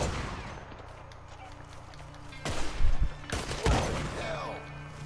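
Gunfire from a Browning Auto-5 semi-automatic shotgun in the Western video game Red Dead: a few sharp, booming shots cluster in the second half, loud and close, over a low game ambience with background chatter.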